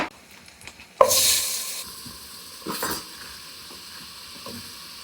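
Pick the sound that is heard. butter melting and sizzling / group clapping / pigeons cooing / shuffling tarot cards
butter melting and sizzling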